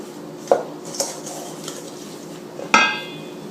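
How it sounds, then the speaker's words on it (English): A utensil clinks and taps against a bowl while flour and powdered sugar are mixed for Linzer cookie dough. There are a few sharp, separate knocks with quiet gaps between them and no voices. "So here I have 2 cups of flour, 1 cup of powdered sugar. We can mix it a little."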